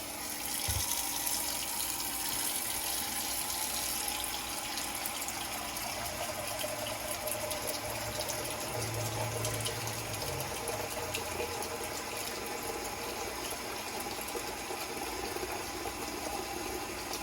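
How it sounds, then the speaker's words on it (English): A cooking pot fills from a kitchen tap with a steady broadband water rush, running continuously and fairly evenly throughout, with no talking over it. "I'm going to take this pot and just fill it up about halfway"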